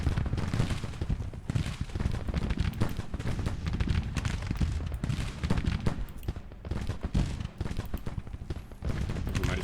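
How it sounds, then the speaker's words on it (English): Dense, continuous musket volleys and cannon fire from the Civil War strategy game Grand Tactician, crackling shots overlapping into a steady rolling din of battle at loud, even intensity. "Now that he's here, open fire."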